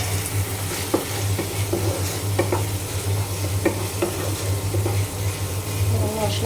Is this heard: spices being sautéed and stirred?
yes